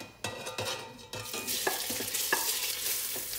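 Minced meat frying in olive oil in a casserole pot while being stirred, with steady sizzling and several scraping knocks of the utensil against the pot, moderately quiet, no talking.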